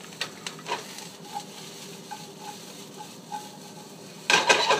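Eggs and vegetables frying in a pan for breakfast, a steady soft sizzle with light scraping and stirring clinks throughout, then a louder burst of sizzling near the end, no talk.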